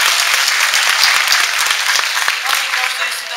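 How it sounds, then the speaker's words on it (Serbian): A convention panel audience at Chibicon 2014 breaks into loud, dense applause, many hands clapping close together without pause, fading slightly at the end. "Ajde, aplauz!"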